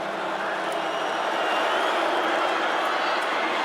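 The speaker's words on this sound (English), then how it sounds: "Crowd on its feet here in the Dome." Stadium crowd at a college football game in the Dome, Georgia Tech Yellow Jackets against Syracuse, a steady loud roar of cheering that holds evenly throughout with no pauses.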